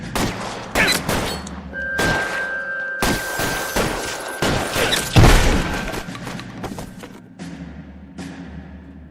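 Gunfire from a shotgun and other weapons in the video game L.A. Noire, loud close blasts arriving in irregular bursts with thuds and echoing booms, one heavy hit standing out near the middle.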